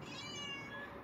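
A domestic cat gives a single soft, drawn-out meow, faint and fairly close, with little else around it.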